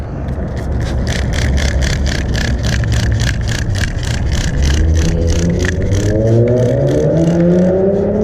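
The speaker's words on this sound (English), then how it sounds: "Apologize for the background noise, but my backyard faces a busy highway." Loud, continuous roar of busy highway traffic heard from a backyard, with passing vehicles and an engine revving up near the end, no voices.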